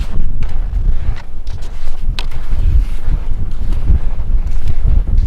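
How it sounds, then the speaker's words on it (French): Strong wind buffets the microphone on a frozen ski crossing in Lapland, a loud continuous rumbling roar with gusty surges and occasional crackles, with no speech. "Il y a beaucoup trop de vent pour continuer à filmer"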